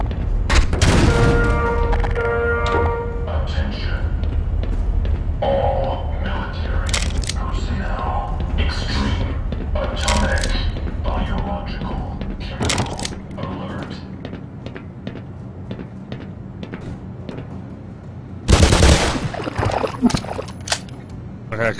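Gunshots in the shooter Black Mesa, with a pistol in use: sharp cracks scattered through a busy mix of game noise, one louder burst standing out near the end, while someone talks over much of it.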